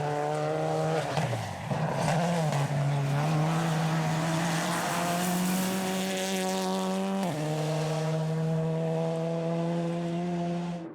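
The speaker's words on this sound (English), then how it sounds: "Dylan Turner throwing everything at the stage as he became more comfortable with the Audi S1 AP4" An Audi S1 AP4 rally car is driven hard through a New Zealand rally stage. Its engine sounds loud and close and holds a sustained high drone, with a brief dip and gear-change pitch drops early on and again near seven seconds.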